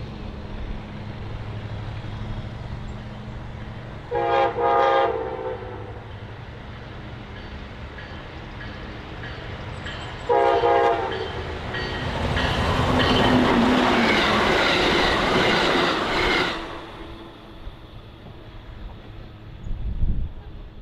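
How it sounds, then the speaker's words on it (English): The Amtrak Illinois Zephyr passenger train races east at 70 mph on a multi-track main line, with brief horn blasts, then a loud rushing roar and wheel clatter swelling as it passes close by and fading away. "we find the Illinois Zephyr rocketing east on track 3, doing all of the allotted 70 mph track speed"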